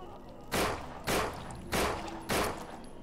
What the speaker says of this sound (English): But that sure sounds like gunshots.